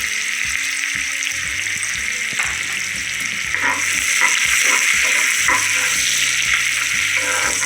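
Finely chopped onion with bay leaves frying in hot oil for a Kolhapuri mutton dish, giving a steady close sizzle with watery crackle and occasional stirring scrapes, no talk.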